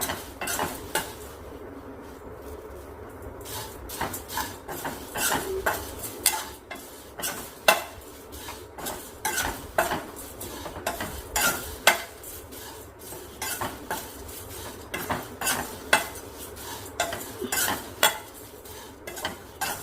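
A snack mixture is dry-roasted in a pan while a spoon stirs and scrapes against the metal in steady, repeated strokes over a faint sizzle, with no talking.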